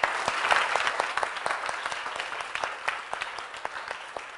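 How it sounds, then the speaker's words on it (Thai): Students applaud in a school assembly hall after performances at a school event, a lively crowd of clapping whose individual claps grow more distinct and sparser as the applause tapers off. "เอาละค่ะนักเรียนขอเสียงปรบมือให้กับการแสดงทั้ง10ชุดในกิจกรรมทำดีเพื่อพ่อของโรงเรียนเราด้วยค่ะ"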